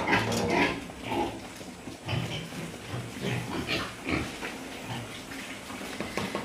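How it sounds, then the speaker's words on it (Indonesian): Landrace pigs on a farm grunt and snuffle continuously, several animals close by, in a steady rough chorus with no talk. "Ini jenis babi landrace ya."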